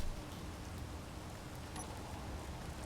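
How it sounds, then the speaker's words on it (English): Rain in the video game Space Engineers, a steady soft hiss of falling drops with no breaks, fairly faint and even from start to finish. "It's raining."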